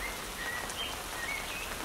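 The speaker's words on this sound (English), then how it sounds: "Of course it had to rain now." Steady rain falls in a continuous close hiss, with a few faint bird chirps above it and no talking.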